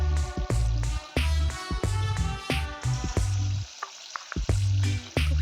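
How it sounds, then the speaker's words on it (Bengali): Cabbage pakoras crackle as they fry in hot white oil, a steady close sizzle broken by short gaps and irregular pops and bumps of batter dropping in. "তেল গরম হয়ে এসছে তো একে একে আমি পকোড়াগুলো"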